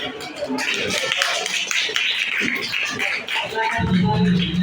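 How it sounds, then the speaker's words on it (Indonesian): Classroom applause from a seventh-grade civics class at a junior high school, a dense burst of many hands clapping that fills the clip loudly and steadily, with a louder swell near the end. "Tepuk tangan."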